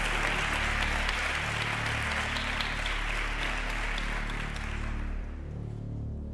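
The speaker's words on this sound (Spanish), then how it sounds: "Vamos a dar un aplauso a Estrella, que es una belleza." A television contest audience applauds contestant Estrella with dense, sustained clapping that holds steady for several seconds and then fades toward the end.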